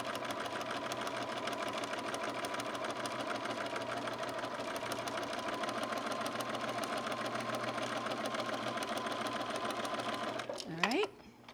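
A sewing machine stitches rickrack down the middle of a ribbon for a felted stocking, running as one long, steady, close whir that stops abruptly near the end.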